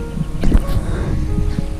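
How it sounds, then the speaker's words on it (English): Wind blowing outdoors on a rail trail in open windmill country, a steady loud low rumble of gusts buffeting throughout with some rustling, no talking. "you can tell it's pretty windy, and the wind is blowing"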